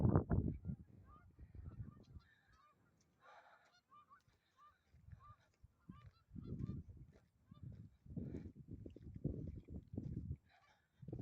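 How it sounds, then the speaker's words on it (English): Geese on a frozen lake honk repeatedly at a distance, scattered calls over a low rumbling wind, with no talking. "seeing these geese just hanging out on the ice and making honking sounds in the process"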